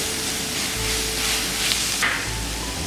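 Nutmeg and garlic go into a hot pan for a Nigerian meat pie filling and sizzle with a steady, close frying hiss that holds throughout.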